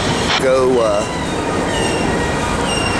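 A Norfolk Southern rock train of empty cars passing close by at Campbell Avenue, a loud steady rumble and rattle of wagons with brief wheel squeals early on, while someone talks briefly.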